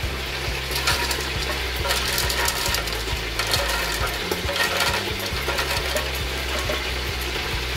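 A blender grinds toasted peanuts for a chicken almendrado dish, giving a loud, steady mechanical whir with a rhythmic ticking churn running throughout.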